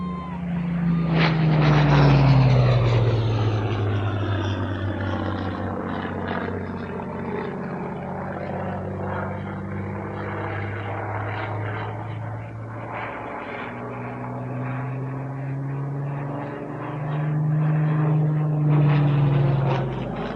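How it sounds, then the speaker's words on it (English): Three flight-worthy Supermarine Spitfires and a P-51 Mustang at Duxford air museum, their piston engines giving a loud propeller drone with Doppler-like sweeping pitch as aircraft pass, swelling and fading over a continuous roar, with voices faintly underneath. "you've got 3 beautiful Spitfires with a Mustang P51 right there, and those are all flight worthy"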